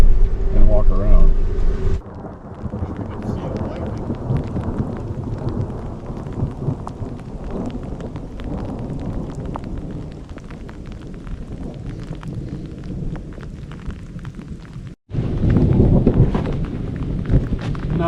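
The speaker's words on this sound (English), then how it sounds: "Lightning and thunder." Thunderstorm on a Western US road trip, with loud rumbling thunder and steady rain-like noise surging at the start and end, heard outdoors near a parked vehicle.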